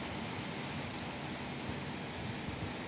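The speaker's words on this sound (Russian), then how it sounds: "Дождь и ветер." Rain and wind outside a window, heard from an apartment loggia in Rostov as a steady, dense hiss of falling rain with no voices.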